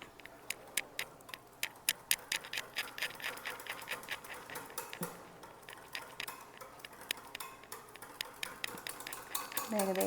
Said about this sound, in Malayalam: കുറച്ച് കുറച്ചായിട്ട് ആവശ്യത്തിന് ഇട്ടിട്ട് ഇങ്ങനെ ഇളക്കി എടുക്കുക